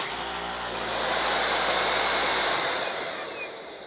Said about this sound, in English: I think something wrong with this vacuum.